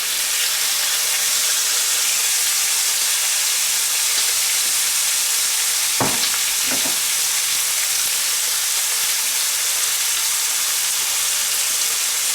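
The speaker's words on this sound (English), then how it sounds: "then we just keep on adding bacon until this entire package is cooked up" Strips of bacon frying in a pan, giving off a steady, even sizzle throughout, with two brief utensil clicks partway through and no one talking.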